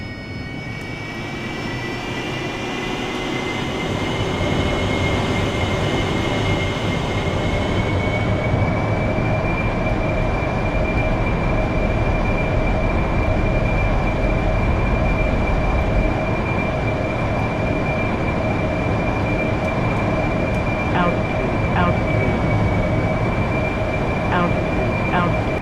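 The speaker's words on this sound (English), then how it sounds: "It always sounds like a real AV8B to me" Exterior engine roar of an AV-8B Harrier jet in a flight simulator game, a loud steady turbine rumble with a sustained high whine that rises in pitch and holds, continuous throughout.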